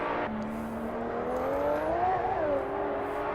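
A GT2 race car in a world championship round sounds unsettled, its engine note rising and wavering as it revs in the background, steady and mid-distance with no talk.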